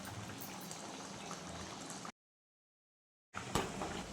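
Andhra-style chicken pulusu curry simmering in a pot after salt is stirred in, a soft continuous bubbling and hiss, cut by a brief silence before a few louder bubbles resume.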